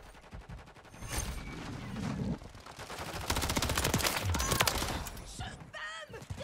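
Rival 9 submachine gun firing in Call of Duty: Modern Warfare 3, with bursts of rapid automatic gunfire under game sounds and a talking player.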